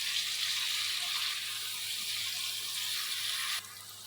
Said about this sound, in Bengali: আধা কাপ পরিমাণ পানি দিয়ে দিব